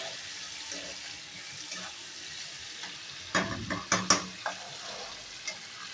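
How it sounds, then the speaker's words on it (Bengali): Fish curry is sautéed in a pan. A steady low sizzle runs underneath and a few sharp scraping clatters of stirring come in the middle. "কষাচ্ছি"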